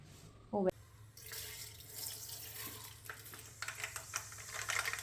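Someone pours a little water into pickle masala in a pan, a brief quiet splash followed by soft, close bubbling and sizzling.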